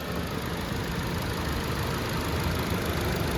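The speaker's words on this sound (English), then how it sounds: "This knocking noise you hear is this cover" A Chevy Cruze engine idling steadily nearby, with a loose cover rattling and knocking lightly in a continuous run over the engine hum.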